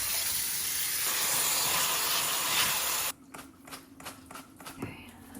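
Water runs steadily into a kitchen sink while cabbage is rinsed, a loud hiss that cuts off about halfway. Quieter clatter and handling noises follow.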